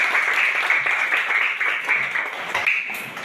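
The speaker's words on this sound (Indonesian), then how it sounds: "Baik, mari kita berikan tepuk tangan." A class of schoolchildren claps together after a prayer, a dense, continuous patter of many small hands that stays loud and even for a few seconds.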